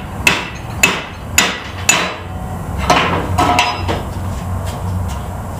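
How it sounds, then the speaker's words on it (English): Four sharp metallic hammer strikes ring out at a steady pace on a car's front upper A-arm held in a vise, then several softer, rougher blows and clanks follow, close and loud. "So I'm just gonna hammer it from this side."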